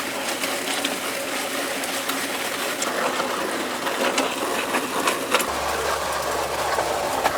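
A concrete mud mixer runs steadily during a concrete pad pour, giving a continuous churning, rattling hum with light scraping clicks, close and even throughout with no talk.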